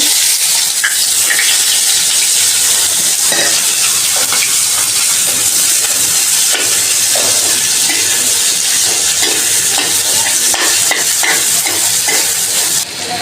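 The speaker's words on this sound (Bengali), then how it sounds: "যে এখন আমি প্যানে একটু পেঁয়াজ দিয়ে দিচ্ছি।" Onion sizzles loudly in a hot frying pan while being stirred, a dense steady hiss of frying close up with occasional scraping, no talking.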